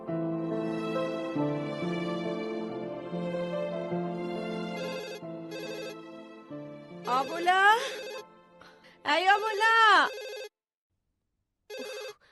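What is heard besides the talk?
telephone ringing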